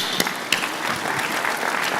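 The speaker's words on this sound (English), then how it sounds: "we should give Callum an extra round of applause" An audience at FlightSimExpo applauds, a dense patter of many hands clapping steadily with a few sharper claps standing out near the start.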